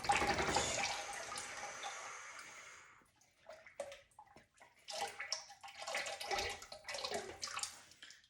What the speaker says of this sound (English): keep the angle going down into the bucket so any drips go into the bucket